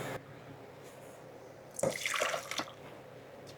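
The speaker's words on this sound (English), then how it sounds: "So I'm going to put it into a saucepan." Sauce poured from a container into a saucepan, a soft wet glugging and splatter building in one brief burst after a quiet start, then fading out.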